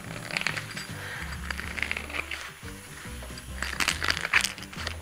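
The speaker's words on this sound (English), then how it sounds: "tool literally just like peels it like an apple and takes away that burr" A hand deburring tool shaves the burr from the inside edge of a cut metal tube, giving close, scraping metallic clicks and chinks that come in uneven bursts, with no talk over them.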